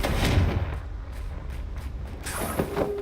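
Booming spell explosions from the video game Hogwarts Legacy burst out in quick succession, loud low rumbles followed by crackling debris and magical effects, with no speech over them.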